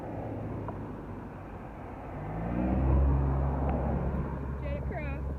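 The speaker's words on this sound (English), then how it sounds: "we're just going to sit here and wait till all the cars pass." Cars passing on a nearby road, a low rumble that swells to a peak midway and fades, with voices talking quietly over the traffic.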